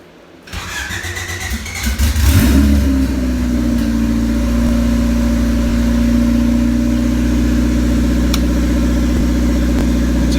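A Honda Civic project car's engine cranks and catches, revving briefly before settling into a steady, loud idle up close with a continuous drone.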